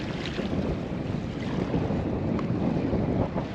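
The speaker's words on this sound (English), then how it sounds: "Hope this wind drops out." Steady, rushing wind buffets the microphone over a choppy sea as a solo kayaker fishes offshore for mackerel, with broadband noise running unbroken and close throughout and no voices.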